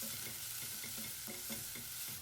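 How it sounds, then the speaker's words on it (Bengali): Chopped onion frying in mustard oil in a pan gives a steady, close sizzle throughout, with soft stirring scrapes and taps repeating every half second or so. "প্রথমে আমি প্যানে সরিষার তেল দিয়ে দিলাম এরপর আমি পেঁয়াজ কুচি দিয়ে দিলাম"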